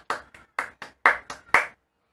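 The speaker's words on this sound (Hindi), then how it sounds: "क्यों ना हम तालियां बजाकर खुद का स्वागत करें" About seven distinct hand claps at a Hindi Sunday school welcome, spaced unevenly and close, each crisp and separate, stopping abruptly with silence after.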